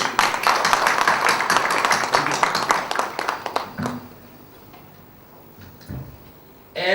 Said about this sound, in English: I welcome Mr. Amit Bansal, CEO, PurpleLeap, and his vice president, Shri Pankaj Kumar, and their team members with a great applause